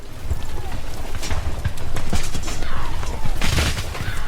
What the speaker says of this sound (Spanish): Cientos de soldados nativos emergieron de la nada y dispararon descarga tras descarga sobre los barcos